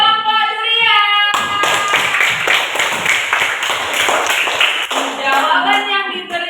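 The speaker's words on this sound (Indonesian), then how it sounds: "tepuk tangan untuk kelompok durian" Classroom clapping for a student group after a correct answer, a short burst of many hands in a rough rhythm with voices over it, ending as talk and a tonal voice resume.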